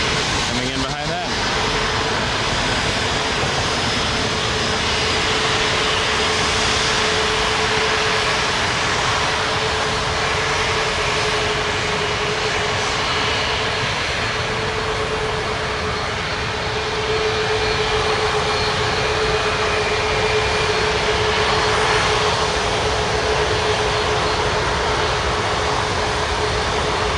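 Jet airliners at Toronto Pearson airport, including an Air Canada Boeing 737 Max 8, make a steady, loud, broadband engine roar that holds for the whole span, with a constant tonal hum running beneath it.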